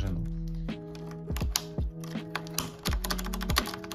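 Typing on a mechanical keyboard with brown switches, close and clear, an uneven run of clicky keystrokes with a few heavier thumps like the space bar, no talk over it.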